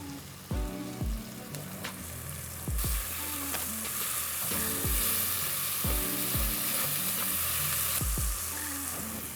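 Cilantro stems sizzle and fry with onions and garlic in a stew pot for chicken stew, a steady loud crackle with occasional stirring scrapes and clunks, no voices.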